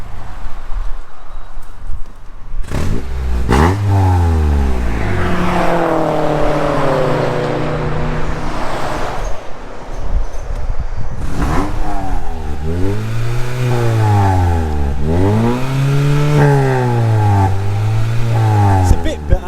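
A Honda Civic EP3 Type R with a straight-pipe exhaust revs repeatedly, loud and close, with rising and falling sweeps climbing high and dropping back. Voices talk in the background.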